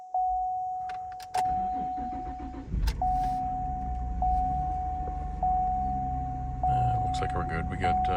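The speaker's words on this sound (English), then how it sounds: "Car starts right up." A Cadillac CTS coupe with a manual gearbox starts up after a battery replacement, and its engine runs at a steady idle beneath a continuous warning chime, with clicks and door or key sounds around it.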